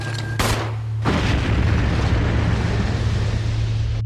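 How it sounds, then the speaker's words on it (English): Explosion of Forrest Speyer's strapped-on explosives in the Resident Evil Remake video game: a sharp loud blast followed by a second heavy boom that rolls into a long rumbling roar, with a steady low hum underneath. "If he catches you, the entire game explodes."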